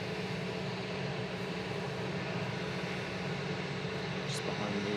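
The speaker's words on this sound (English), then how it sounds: "Next in is Air Baltic. Just about to land. There we go. Beautiful A220." An Air Baltic Airbus A220 lands at Manchester Airport, heard as a steady, distant broadband roar of jet noise that holds an even level throughout.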